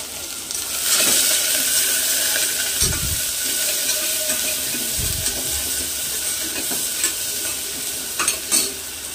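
Mustard seeds and cumin fry in hot ghee with a steady, loud crackling sizzle and hiss that holds throughout, with a few sharper pops near the end and no talking.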